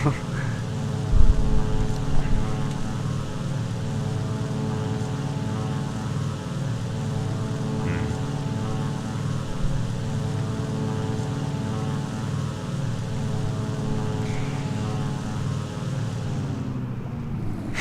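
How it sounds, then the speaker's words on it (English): A Gloster Gladiator Mk II biplane's propeller engine in War Thunder drones steadily and loud for a long stretch, then its tone shifts and drops away near the end as the engine cuts out. "It's so weird hearing that engine cut out."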